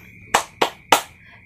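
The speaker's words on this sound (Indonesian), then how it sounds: "Tepuk di atas kepala" Three crisp, separate hand claps made above the head during a children's prayer song, evenly spaced and close, with a faint steady tone underneath between them.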